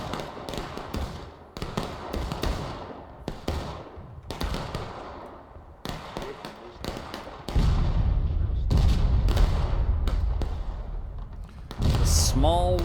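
Distant battle gunfire in the video game War of Rights, many scattered musket-like cracks and pops in irregular rhythm, moderately faint with a heavier rumbling stretch midway and a brief rising whistle near the end.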